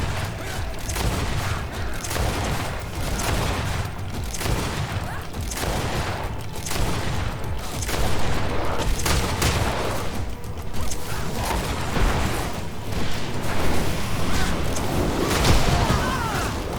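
Gunshots fired in the action role-playing video game GreedFall, sounding as repeated bursts and booms amid clanking mechanisms and combat noise throughout the clip, with a voice speaking at times.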